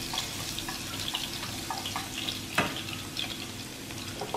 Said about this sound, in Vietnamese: Khi dầu sôi thì mình cho tỏi mình đã đập dập vô này các bạn